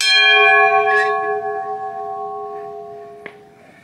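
A fort bell at Fort King George, Georgia's first outpost, gives one loud metallic strike that rings on with a long, slowly fading hum. A faint tap sounds near the end.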